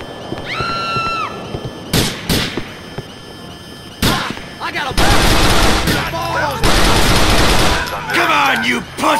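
Gunfire in GTA Episodes From Liberty City, The Lost and Damned on PC: sharp loud shots break out in bursts, then a dense rapid fusillade fills the second half, with a voice speaking between volleys.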